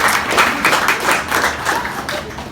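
Audience applause at a seminar: a steady, dense patter of many hands clapping together, moderately loud and close, continuing without pause for a couple of seconds.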